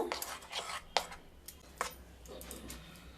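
Semolina dhokla batter stirred with salt and mustard oil, giving soft scraping strokes and a few sharper clinks of a utensil against the bowl, close but quiet.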